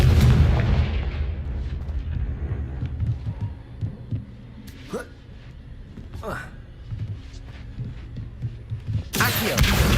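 Confringo, a blasting spell cast in the Hogwarts Legacy game: low booming impacts with a couple of sharp whooshing bursts over a dull rumbling background, ending in a loud bright blast, with speech in the mix.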